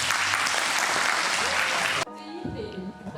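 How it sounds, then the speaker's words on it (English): Seminar audience applauding boxer Chantelle Cameron at a USKA boxing seminar, a dense burst of clapping that stops abruptly after about two seconds, followed by quieter room sound and voices. "massive round of applause for Chantelle"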